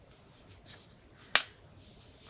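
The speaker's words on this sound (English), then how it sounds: "For some reason, this one makes like a loud popping noise when I open it." Eyeshadow palette lid snapping open with a single sharp, loud pop against near silence.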